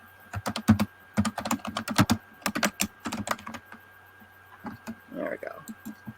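Rapid bursts of keyboard typing, clicking in irregular clusters with short pauses, close by; a brief murmur of speech near the end.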